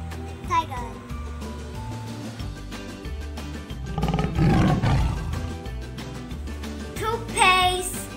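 A tiger's roar sounding over music and a voice, swelling loud in the middle and again near the end.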